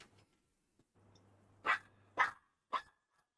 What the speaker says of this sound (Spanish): La perra está protestando